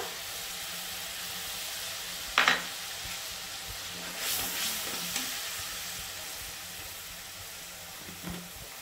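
Onion paste with chilli and ginger paste fries in a pan, giving a steady hiss of sizzling with an occasional scrape or clatter from stirring, fairly close and with no voices.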